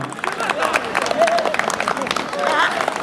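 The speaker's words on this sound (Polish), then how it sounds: "Gratulacje i brawa." Crowd applause at a marathon in Jelcz-Laskowice, honouring a 75-year-old runner, with scattered clapping and cheering running throughout under an announcer's voice on a loudspeaker.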